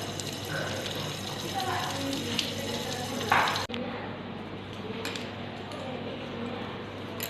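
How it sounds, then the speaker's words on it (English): Clean tap water runs over a lab slide to rinse off carbolfuchsin stain during acid-fast staining, a steady close splashing and trickle that cuts off briefly midway, then resumes more faintly. "wash off with the clean water"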